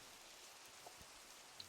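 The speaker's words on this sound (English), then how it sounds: "It's raining quite a lot actually." Steady, faint rainfall in the Minecraft video game, a soft continuous hiss of drops with a couple of tiny isolated ticks and no talking.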